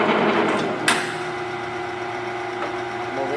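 A South Bend Turn-Nado 17 x 60 inch CL-170E engine lathe runs with a steady mechanical hum and whir, broken by one sharp clunk early on as the spindle engages; no one speaks.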